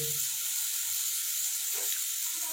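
Noodles sautéed and stirred in a hot pan give off a steady, close sizzling hiss that holds evenly throughout, with faint scraping underneath.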